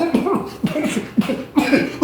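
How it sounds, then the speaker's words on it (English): Several hard, forceful coughs come in quick separate bursts, close and fairly loud, with no talking between them. "I did a mean cough"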